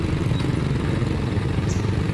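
A motorcycle engine runs steadily during a roadside tow, a continuous low rumble with some clatter, fairly loud and without talk.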